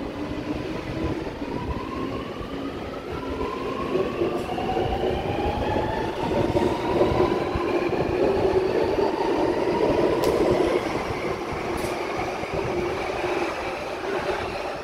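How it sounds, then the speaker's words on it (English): A Sydney Metro train departs platform 2 at Chatswood with a steady rumble of wheels on rail, rising and falling electric motor whines, and faint clacks, loud and continuous throughout. "Metro departing platform number 2, or about to."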